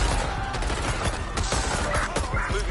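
Rapid gunfire in the open-world game Watch Dogs Legion, a loud dense fusillade of overlapping shots and bursts that continues for the whole stretch with no talking.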